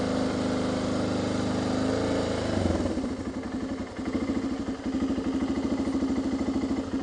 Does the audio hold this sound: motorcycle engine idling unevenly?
yes